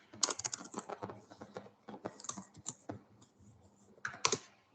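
Rapid typing on a computer keyboard while code is entered, a dense, close run of crisp keystrokes with brief pauses and a quick final burst of taps.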